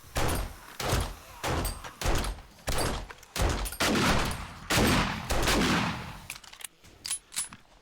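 Gunfire in the survival video game 7 Days to Die rings out in repeated loud bursts, several rapid volleys in a row with short gaps between them.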